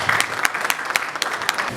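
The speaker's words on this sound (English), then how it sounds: "With a round of applause again, please welcome Muyiwa Abiodun as speaker." An audience at a Nigerian power-sector dialogue event applauds to welcome a speaker, with sharp, scattered claps forming a brief, moderately loud round of applause.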